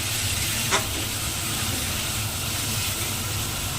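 Green chillies frying in a sizzling spice masala for a chicken curry, a steady dense hiss with a brief sharp crackle near the start, no voices.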